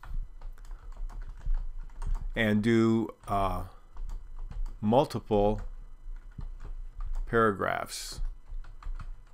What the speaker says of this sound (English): So I'll continue typing for a bit